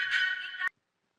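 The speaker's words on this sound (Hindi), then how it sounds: "किसका फोन है?" A phone rings in a single electronic tone that cuts off abruptly after about half a second, followed by silence, in a Hindi comedy scene.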